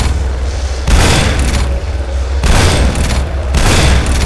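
Gunfire in the shooter game F.E.A.R., loud repeated bursts of heavy weapon fire in three clusters with booming low rumble between them, close and dominating.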